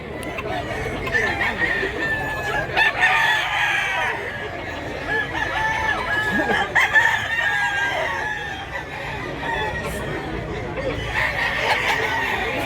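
Several roosters crow repeatedly amid steady clucking from a crowded flock at a chicken market in Mantalongon, Barili, Cebu, a continuous noisy barnyard chorus with no clear pauses.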